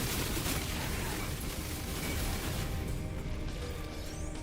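Dense, continuous barrage of weapon fire and explosions from an infraknife accelerator in No Man's Sky, loud and steady throughout with no gaps or talk.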